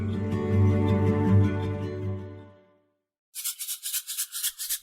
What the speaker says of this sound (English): I just shook a packet of Element Recharge watermelon salt in your ear.